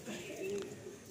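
Madrasi pigeons coo softly in a full loft in Kolkata, one short low throaty coo rising and settling nearby, with faint background murmur.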